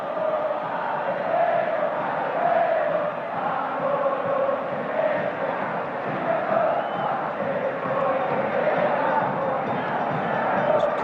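Football stadium crowd at a 1987–88 Boca Juniors versus River Plate league match, a loud, continuous roar of massed voices with rising and falling jeers, steady throughout with no clear gaps.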